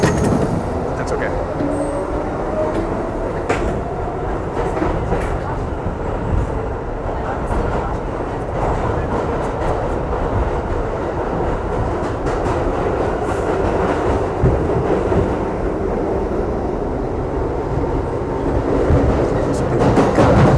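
A New York City subway train runs steadily with a continuous loud rumble and rattling clatter, wheel squeal and screech rising briefly over the din, heard from inside the car throughout.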